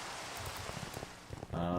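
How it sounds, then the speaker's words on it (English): Steady rain during a storm at night in Minecraft with the GTNH modpack, a soft continuous hiss with faint scattered taps, quiet and even throughout before a tone enters at the end. "That way the storm can go away, and then we can be safe."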